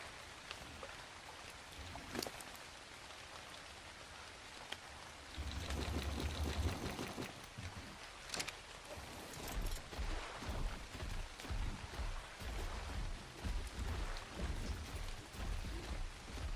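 Rain pours down in the ARK: Survival Ascended video game, a dense steady hiss that swells louder partway through and keeps going, with no voices over it.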